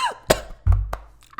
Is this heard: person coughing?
yes